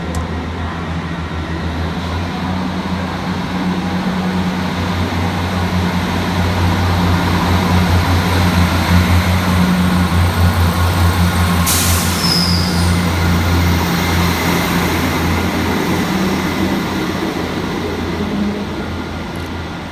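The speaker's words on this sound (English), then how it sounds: "we see the departure of 158758 working the 1536 Northern service at Wigan Wallgate through to Leeds" A Northern class 158 diesel multiple unit departs a station platform at Wigan Wallgate, its engine droning steadily and loudly throughout, with a brief high hiss partway through.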